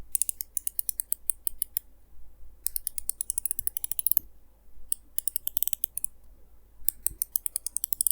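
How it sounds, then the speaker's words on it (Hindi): The 120-click rotating bezel of a Casio Duro MDV-106 dive watch is turned in quick runs of crisp, close, ratcheting clicks. Short pauses separate each burst, and the clicking sounds alone. "इसका रोटेटिंग बेजल, इसका आप लोग एक बार साउंड सुन लो"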